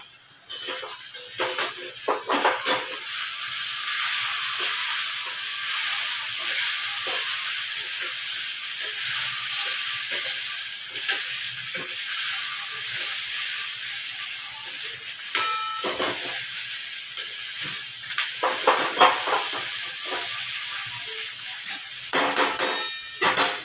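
Two large onions sizzle steadily in hot oil for a dry bitter gourd (karela) bhaji, a continuous bright frying hiss with occasional faint clinks of stirring throughout.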